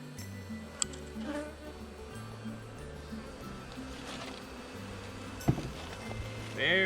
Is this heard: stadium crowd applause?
no